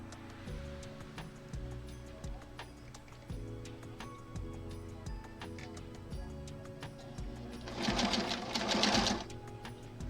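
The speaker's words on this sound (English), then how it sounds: "Now we're going to sew this." Sewing machine stitching a quilt block, running steadily and close up with a continuous mechanical hum and rapid needle ticking, plus a brief louder burst of rustling fabric near the end.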